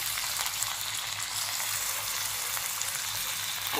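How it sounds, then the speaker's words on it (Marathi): Green chillies and potato slices sauté in hot oil in a pan for fasting khichdi, making a loud, close, continuous hissing sizzle that holds steady throughout. "मिरच्या थोड्या भाजून देते परतून देते थोड्याशा नंतर हा बटाट्याचे काप केलेले जाते"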